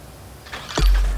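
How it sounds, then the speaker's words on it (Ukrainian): A car engine turns over and catches near the end, a brief starter crank followed by a sudden low rumble as it fires, heard close after a quiet moment. "Заводимо машину."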